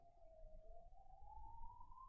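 An ambulance siren, a faint, steady wailing tone that slowly rises in pitch over a quiet background, heard alone and distant.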